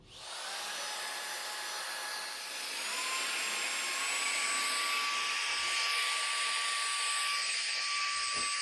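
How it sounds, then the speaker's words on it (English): An XCoo cordless handheld vacuum used as a blower to inflate a small air mattress, a steady close whooshing whine that spins up quickly and holds with a slight rise in pitch, no voices. "use the blower to air up a smaller air mattress"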